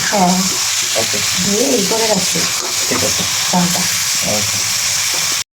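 Meat being bhuna-fried in a pot for homemade biryani, with a steady close sizzle and stirring scrapes running throughout while voices talk over it.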